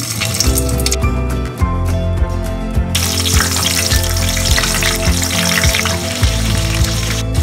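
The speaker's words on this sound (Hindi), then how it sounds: "यहाँ पे मैंने ऑयल को गर्म होने के लिए रख दिया है इसमें ये मिर्चें डाल के फ्राई करेंगे" Green chillies, slit and stuffed with masala, frying in hot oil in a home kitchen; a steady, loud crackling sizzle runs throughout, with occasional clinks, and no voices.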